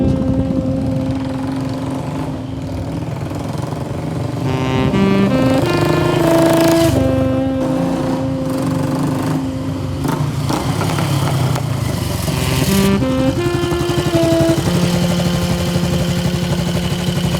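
A motorcycle engine runs loud and close throughout, with a steady rumbling drone whose pitch rises and falls with throttle changes, alone with no talk.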